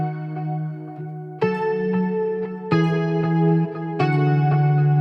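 Clean electric guitar with octave-up, octave-down and stereo chorus effects plays four sustained chords in a shimmering, layered tone, each struck and left to ring, close and alone.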